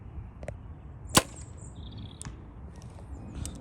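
A three-vane arrow fletched with AAE Airazr vanes, shot at 80 yards, gives one sharp brief whoosh as it passes overhead, standing out against a quiet outdoor background.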